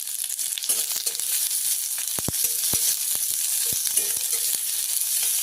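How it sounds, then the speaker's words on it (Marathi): Onion frying in hot oil in a pan, a steady close sizzle with scattered crackles and light stirring clicks, no talk. "कांदा त्याच्यामध्ये चांगला भाजून घेते"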